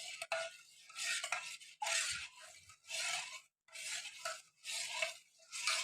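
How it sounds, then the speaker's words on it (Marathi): Yogurt being stirred into warm milk for shrikhand, a spoon scraping and swirling in a pot in regular strokes, each a soft rasp followed by a brief pause, quiet and close. "हे बघा चांगलं मिक्स झालं"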